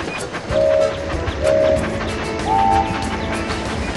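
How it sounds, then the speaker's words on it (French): A locomotive runs along the tracks in a Thomas and Friends video game, with a steady rolling rumble broken by three short, bright whistle toots. "Dirige ta locomotive dans les virages serrés."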